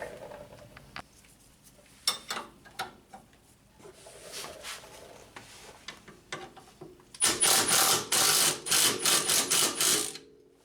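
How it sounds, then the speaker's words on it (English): Impact wrench tightening a strut bolt nut on a 2007 Honda Accord, after scattered clicks and handling noises a loud burst of rapid hammering rattles several times in close succession. "I'll just tack it down with my impact on the other side"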